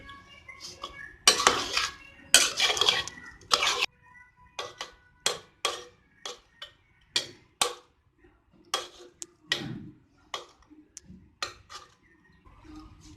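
Mutton biryani being mixed in a pot: close, irregular clinks and scrapes of a spoon against the metal pot, a few dense stirring bursts followed by scattered single taps.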